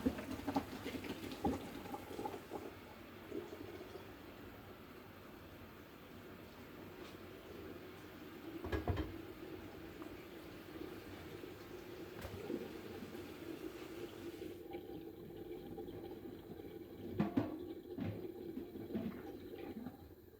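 Rice bubbling in a pot on the stove, a faint, continuous simmering hiss with soft gurgles and an occasional louder bump.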